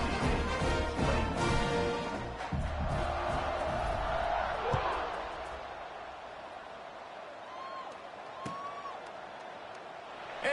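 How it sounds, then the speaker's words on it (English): Stadium crowd in a college football video game with Boise State, a broad roaring buzz that swells and then eases into a lower murmur, with whoops and a sharp thud, under commentary. "this crowd is buzzing after that last score"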